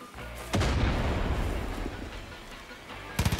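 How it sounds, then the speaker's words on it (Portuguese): A deep, booming bomb blast in the video game Far Cry 5 rolls out and rumbles for a couple of seconds, and a second heavy thud follows at the end. "Olha a bomba!"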